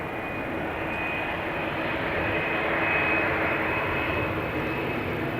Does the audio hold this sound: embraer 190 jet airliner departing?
yes